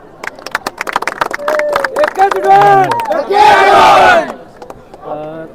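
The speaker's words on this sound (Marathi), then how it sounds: "त्या माणसासाठी टाळ्या झाल्याच पाहिजे" Crowd at a bullock cart race ground in Mumbai breaks into a quick burst of clapping, then loud, close whoops and shouted cheers from many voices.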